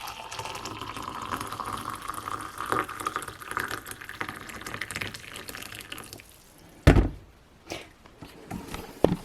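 Freshly brewed coffee pours from a French press into a cup, a continuous trickling stream that thins out, then a few clinks and drips at the end.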